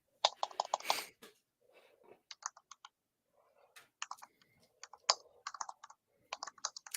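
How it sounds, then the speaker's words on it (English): Keys clatter on a tactile mechanical keyboard in irregular bursts of crisp clicks, with brief pauses between runs of typing, close and clear without any voices. "So are we on the mechanical keyboard right now?"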